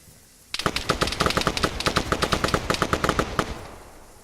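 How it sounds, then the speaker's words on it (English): Rapid bursts of automatic gunfire crackle through combat in the video game ARMA 3, a loud string of sharp shots lasting about three seconds before trailing off, with no talk. "Hear that? I'm in combat now. I don't think those shots are directed at me"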